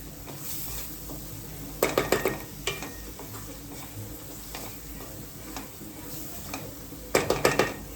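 Whole spices roasting in oil in a pan for an Agri-style val (field bean) bhaji, with a steady low sizzle and short bursts of metal clinks from stirring.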